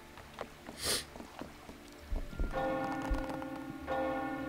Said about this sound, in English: So that's the sound of the bell.